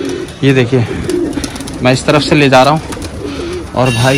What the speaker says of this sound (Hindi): कलदुमा कबूतर है यार